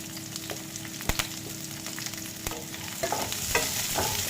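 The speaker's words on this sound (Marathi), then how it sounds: "आणि एक मोठा कांदा मी कट केला आहे उभा, त्याला मी फ्राय करून घेणार आहे" A large sliced onion fries in a pan with a steady crackling sizzle, punctuated by a few sharp clicks of a utensil and stirring that grows busier toward the end.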